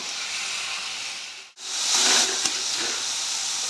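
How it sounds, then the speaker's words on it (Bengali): Banana stem is stirred and fried in oil in a pan for a traditional Bengali vegetarian dish, producing a loud, even hissing sizzle that cuts out for a moment near the middle before resuming, with a single faint knock. "তেলের মধ্যে এবার এটাকে আমরা কিছুক্ষণ নাড়াচাড়া"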